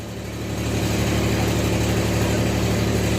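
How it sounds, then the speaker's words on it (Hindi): A railway locomotive creeps slowly toward a station, hauling loaded freight wagons, producing a steady, deep diesel rumble with a constant low hum that swells slightly at the start and then holds level, with no voices. "इंजन देख रहे हैं कितना धीरे धीरे आ रही है"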